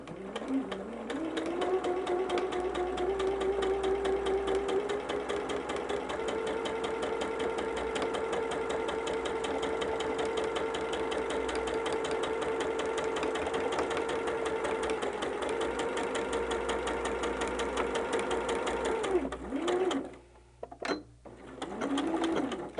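Sewing machine stitching a long quilt seam through heavy layers of a barn star sampler, a steady continuous whir running for most of the clip before stopping near the end, followed by a short burst of backstitching.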